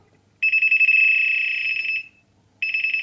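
The alert of a Banggood Gold pinpointer metal detector, a loud, shrill, high-pitched electronic warble lasting over a second, then a short pause before it starts again, close and alone.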